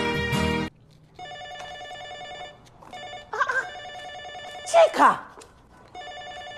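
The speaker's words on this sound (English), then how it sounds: "Can you not hear the phone ring?" A telephone rings in repeated electronic bursts through an indoor comedy scene, shouting voices and a sharp outburst breaking in between the rings.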